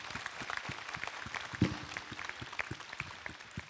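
Audience applause at an actors' panel at the TGS Toulouse 2022 convention, a fairly faint, distant wash of clapping from a crowded hall with scattered sharper claps, steady throughout.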